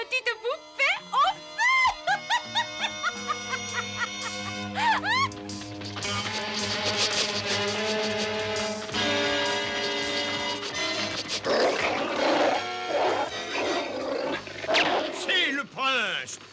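Dogs barking in a French Smurfs cartoon, a run of loud repeated barks over music, with voices and other animal roars mixed in.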